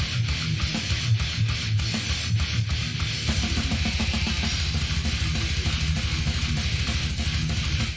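Death metal, dense distorted guitars with pounding fast drums that settle into a rapid driving beat, loud and continuous throughout.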